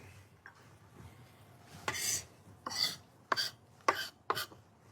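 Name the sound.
knife mincing shallot on a cutting board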